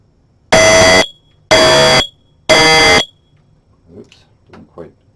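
A smoke detector wired to a 3D printer setup sounds three loud, piercing beeps in a slow, even rhythm at close range, followed by quiet mechanical clicks and handling noises.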